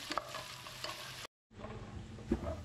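Shallots frying in a high-end nonstick enamel pot, a steady close sizzle broken by a brief gap, with scraping stirs and a couple of knocks of the utensil against the pot.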